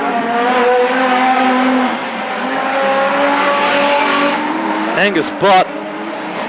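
Production sedan race cars, including a Holden Commodore, roar around a circuit in a steady, loud engine drone beneath continuous race commentary, with a couple of quick swooping pass-bys near the end.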